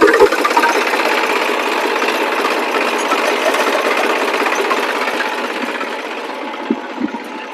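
A tractor pulling a seed drill set up for sowing mung beans runs in a steady close mechanical drone with a rapid rattling rhythm, loud and continuous, with a few clanks near the end.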